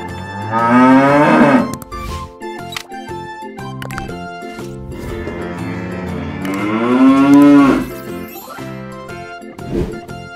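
Cattle low in two long, loud moos, each swelling and then fading, with quieter lowing and a faint jingle between them and no talking.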